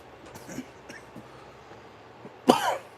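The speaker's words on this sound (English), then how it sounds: "Oh, there's that cough again." A person gives a single harsh cough near the end, loud and close, after a stretch of quiet low-level room noise with a few faint taps.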